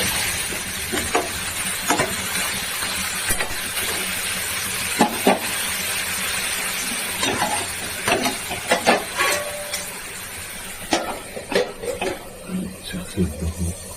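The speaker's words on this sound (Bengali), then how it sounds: "মশলা দিয়ে দেশি চিকেন কষা।" Desi chicken fries with spices in a pan, a continuous sizzle broken by repeated scraping and stirring strokes and clinks of the spoon. Someone talks intermittently over the cooking.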